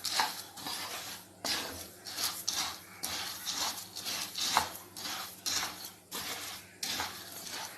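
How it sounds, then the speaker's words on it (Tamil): Coriander seeds dry-roasting in a pan are stirred in repeated rough scraping and rattling strokes, close and moderately loud, with short pauses between passes. "இப்போ நான் மல்லியை போட்டுட்டேன். இது நல்லா வாசம் வர வரைக்கும் வறுக்கலாம்."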